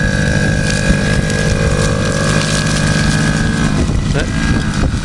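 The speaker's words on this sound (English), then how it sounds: "how you ride a mini bike" A Kawasaki KDX50 mini bike engine runs steadily and loudly nearby, a constant buzzing drone with a high whine holding throughout.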